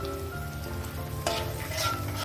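Aloo dum frying in a pan after whisked curd thinned with a little water goes in, with chilli powder added just before; a steady close sizzle and bubbling runs throughout, brightening near the end as the wet curd hits the hot oil.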